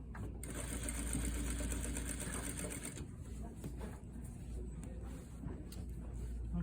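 A sewing machine stitches a turned-under quarter-inch hem on a shawl collar sample, giving a steady, fairly quiet mechanical whir that softens slightly partway through but keeps running.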